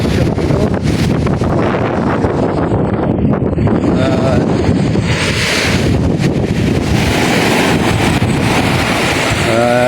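Strong wind during heavy rain buffets the microphone in a constant loud roar, with surf and water noise mixed in, and no pause throughout.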